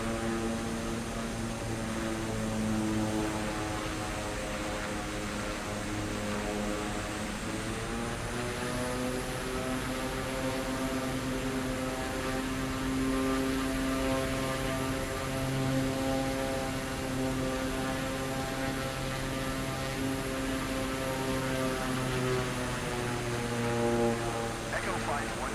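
A propeller aircraft in Microsoft Flight Simulator 2024 drones steadily as it flies slowly with flaps extended, a continuous buzzing engine hum whose pitch rises slightly partway through.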